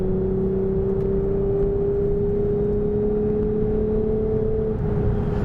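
A 2021 Lexus IS 350 F Sport cruising at highway speed, giving a steady, loud drone of engine and road noise with a sustained low hum that holds constant throughout, heard from inside the car with no talking.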